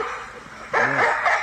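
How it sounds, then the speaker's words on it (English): A single gruff dog bark aimed at a large wolf rings out over a steady background hiss, moderately loud and slightly distant. "So you can hear a dog barking at this wolf."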